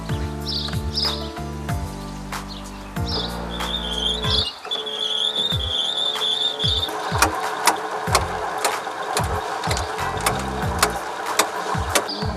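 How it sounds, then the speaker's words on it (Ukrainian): A motorized honey extractor loaded with four heavy honey frames starts up and spins, giving a steady mechanical whir and rhythmic clatter that speeds up over time, with a high whine above it. "медогонку вже поставили 4 рамки. У нас тут є пристрій, який регулює оберти цього механізму, і ми його включаємо"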